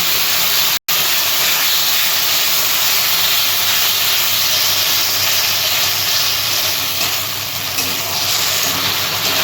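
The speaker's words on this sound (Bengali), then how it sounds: "এবার আমি এখানে মশলা করা আছে আদা, কাঁচা লঙ্কা, টমেটো, এই মশলাটা দিয়ে দিলাম।" Ginger, green chili and tomato paste hit hot fried onion and garlic in a pan while cooking jackfruit kofta curry, giving a loud, steady, continuous sizzle and hiss with a brief break near the start.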